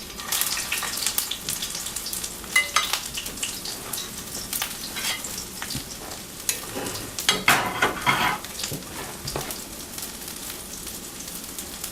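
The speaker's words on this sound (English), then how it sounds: "So we're going to cook this for probably 45 seconds on each side" Sesame-crusted ahi tuna searing in a hot pan, a loud steady sizzle and crackle with bursts of spattering, close up and uninterrupted by speech.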